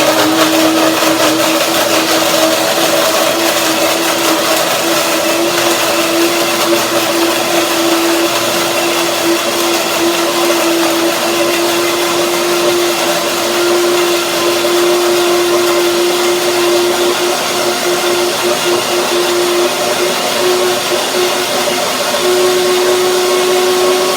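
A loud, steady blender roars without pause while blending dates, its motor drone holding a constant pitch with a gritty churning texture throughout.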